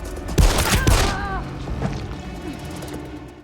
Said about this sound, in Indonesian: aksi baku tembak pun terjadi